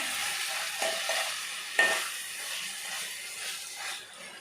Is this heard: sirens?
no